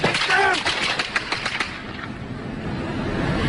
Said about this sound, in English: we're leaving this area because there's gunfire all around us